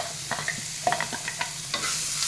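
Indian tempering of spices frying in a pan, with a steady sizzle under a series of sharp scrapes and clinks from stirring, close and clear, no voices.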